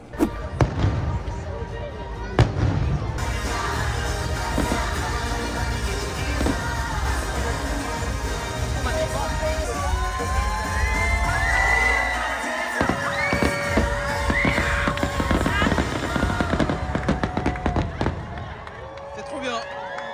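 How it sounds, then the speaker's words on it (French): Fireworks burst during the Mickey Mix Magic nighttime show at Disneyland California, popping and booming repeatedly over a steady roar of crowd noise and cheering, with a sharp crackling volley partway through. "On a vu un petit bout de Mickey Mix Magic avec les feux d'artifice."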